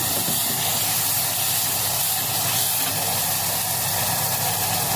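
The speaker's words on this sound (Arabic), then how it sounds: "احط الخل بالراحه خالص" Vinegar poured slowly onto hot roasted food in a pan gives a loud, continuous steaming sizzle and hiss, broad and close, lasting throughout without any talk.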